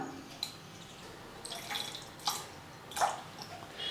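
A little water is added to salt in a bowl for kozhukattai dough, making faint, sporadic drips and small splashes in a quiet kitchen.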